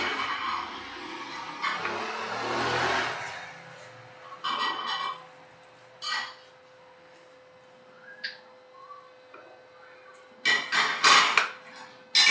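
A greased knife cuts a potato into pieces for chips, giving scattered close clunks and scraping taps on a board with quiet gaps between strokes and a faint steady hum beneath.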